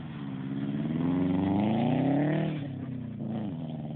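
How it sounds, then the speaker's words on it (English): Subaru RSTi engine revving hard while drifting in a mall parking lot, a loud rising growl that climbs for about two seconds, then drops and settles into a steadier rumble. "this car sounds awesome"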